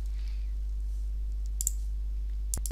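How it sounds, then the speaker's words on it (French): In a quiet room with a low steady hum, a computer mouse clicks on a word-processor ruler and then a keyboard Tab key is pressed. These give two short, crisp clicks about a second apart. "Je clique sur la règle à 9 cm et j'appuie sur tabulation."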